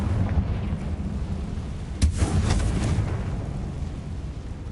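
A Confringo blasting spell goes off in Hogwarts Legacy: one sharp burst of energy rising out of a steady rumbling background, with a short crackling tail that fades back into the ambience.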